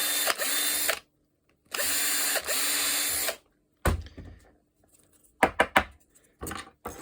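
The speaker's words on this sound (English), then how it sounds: "And run a drill through here." A drill bores through a 3D-printed knuckle part for a DIY robot hand in two loud, whining bursts of about a second each. Sharp knocks and light clatter follow as the part is handled.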